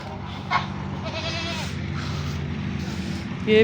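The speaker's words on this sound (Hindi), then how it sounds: "ये खड़ी हुई है बकरी, ये गाय खड़ी हुई है, वो बकरियां बैठी हुई हैं" Goats bleat near and loud at a rural home farmyard where cows and a calf stand nearby, a few wavering cries over a steady low hum with someone talking throughout.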